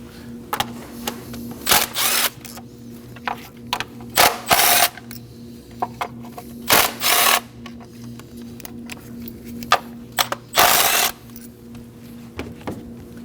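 Ratchet backing out 10mm coil bolts on a 2011-2016 Kia Optima engine, short bursts of rapid clicking repeated several times, close and fairly loud over a low steady hum, with no talking.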